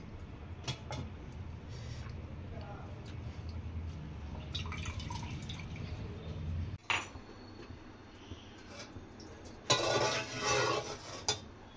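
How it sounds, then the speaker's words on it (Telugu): Cooking oil poured into a pot of chicken pickle at home, a faint dripping trickle with scattered clinks of utensils and pans, then a brief louder splashing pour near the end, with no talk. "ఇంకా కాస్త నూనె ఆయిల్ వేస్తున్నాను నేను"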